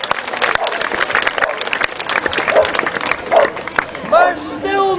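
An audience at a knight-combat demonstration gives lively applause for two knights. The clapping is close and sustained, with crowd voices and chatter over it and a dog barking near the end.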